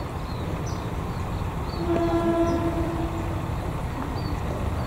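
Malioboro Express KA154 F, Purwokerto to Malang, hauled by a red and blue CC201 locomotive: a steady rumble of the passing train with a short tonal squeal in the middle, no voices.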